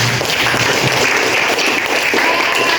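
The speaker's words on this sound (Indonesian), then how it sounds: "Oke, tepuk tangan untuk kalian." Classroom applause for students, a dense, loud, continuous clapping from a group close by that fills the whole moment without a break.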